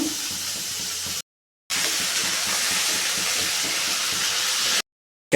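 Steady loud sizzling of food frying in a hot pan, broken by two brief silent cuts.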